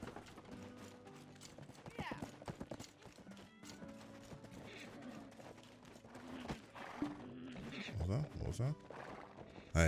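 Horses and wagons clip-clopping through a busy trade town in the online game Black Desert, steady hoof clatter and rolling wheels under music and game sounds, with a voice talking over it.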